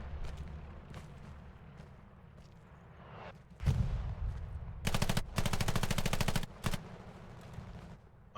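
Gunfire in a World War II shooter video game set at Sainte-Mère-Église: scattered single shots, then sustained bursts of rapid machine-gun fire and a heavy boom, loud and dense, without speech.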